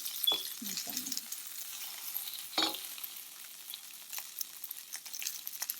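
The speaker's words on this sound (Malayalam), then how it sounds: "ഈ വെണ്ടയ്ക്ക ഒന്ന് 2 മിനിറ്റ് അതിനകത്തടിച്ച് നിർത്താൻ മതി." Okra frying in a pan for a Kerala-style coconut milk stew gives a soft, steady sizzle, broken by a few short scraping stirs and clatters near the start and one sharper knock midway.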